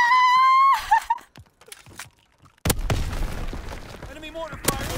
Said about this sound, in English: Enemy mortar fire incoming.